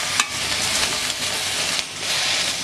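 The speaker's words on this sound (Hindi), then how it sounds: "गैस पे एक कढ़ाई रखी है, उसके अंदर ये चॉप की हुई कैप्सिकम डाल दूँगी, जिसे भून लेंगे।" Chopped capsicum fries in a kadai over a gas flame, giving a steady close hiss and sizzle throughout, with a few brief louder crackles and no talking.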